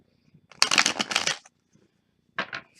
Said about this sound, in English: let's just give this one a good shuffle